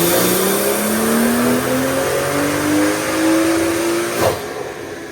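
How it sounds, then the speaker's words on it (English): A turbo-upgraded BMW 340i F30 with a B58 engine on E40 fuel revving through a dyno pull, rising engine tone climbing steadily, loud and close, then a sharp burst near the end as the pull tops out. "and then we were able to do our dyno run"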